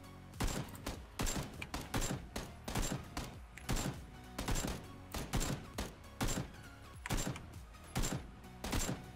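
Gunfire in the PUBG battle royale video game, with rapid bursts of sharp shots in quick clusters. The shots fire in a dense rhythmic series, moderately loud, and no talk is heard over them.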